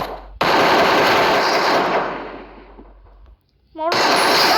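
Rapid automatic gunfire in the mobile shooter game Free Fire, a loud sustained burst of shots that tapers off, then a short gap before firing resumes, with a voice talking over it.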